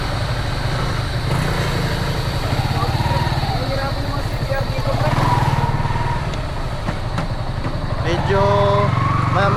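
A Yamaha MT15 motorcycle rides along a narrow road, its engine droning steadily and loudly throughout with a slight rise and fall in pitch.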